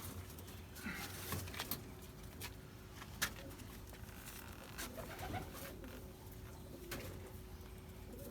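Pigeons coo softly in a Bathinda loft, distant and low under a steady background hum, with scattered taps and brief rustles and no clear talking.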